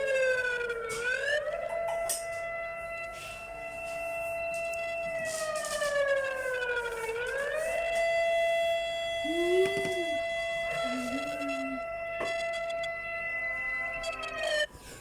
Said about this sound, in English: So this was probably an earthquake warning. It doesn't even have a good alarm.